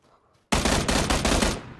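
Automatic gunfire in the video game PUBG, a sudden close, loud burst of rapid shots about a second long, ending abruptly with no talk over it.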